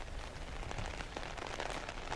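Steady rain falls outdoors on a cold night, a dense, even patter of drops on surfaces that fills the whole stretch at a constant level with no voices.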